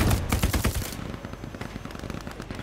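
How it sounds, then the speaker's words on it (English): Heavy gunfire in the Hell Let Loose WWII game, including an anti-tank gun firing, with a dense burst of loud rapid shots in the first second followed by scattered fainter distant reports. "That was an AT gun."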